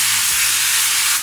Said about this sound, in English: You do wanna spray the bottom of your dish,